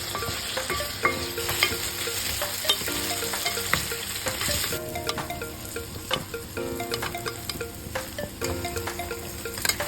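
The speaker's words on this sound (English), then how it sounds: "let's heat oil in the pan and we will pan fry some potatoes." Potatoes pan-frying in hot oil crackle and sizzle continuously up close, with occasional scrapes and clicks of a utensil moving them around the pan, no talking.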